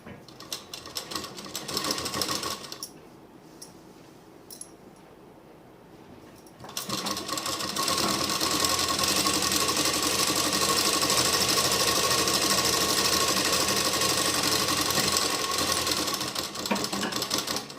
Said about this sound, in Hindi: इसी तरह से मैं दूसरी स्लीव में भी सिलाई लगा लूँगी।